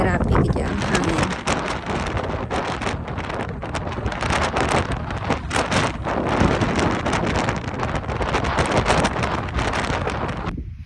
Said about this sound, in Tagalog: Grabe gid ang hangin.